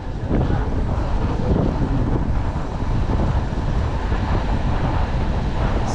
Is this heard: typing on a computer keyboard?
no